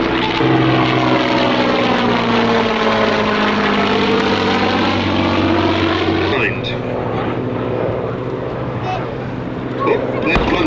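A Gloster Gladiator biplane at the 1995 Fairford airshow: a loud propeller engine drone passing close by with a sweeping pitch shift, then fading to a lower rumble, with a commentator talking over it.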